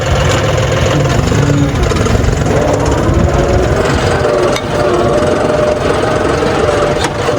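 A 4WD John Deere tractor engine runs steadily in a field, a loud, continuous diesel rumble with a knocking low throb that stays close and unbroken throughout.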